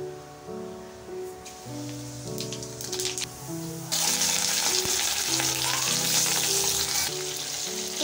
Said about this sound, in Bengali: তো আমি কালো জিরে এখন সম্বর দেবো